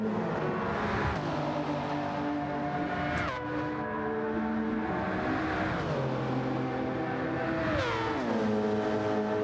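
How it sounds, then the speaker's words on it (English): Mazda RX-Vision GT3 race car in a racing video game, its engine revving high and shifting through gears with rising and falling whine, loud and continuous with no talk. "That Mazda, to me, sounds absolutely fantastic. I love the sound of that car."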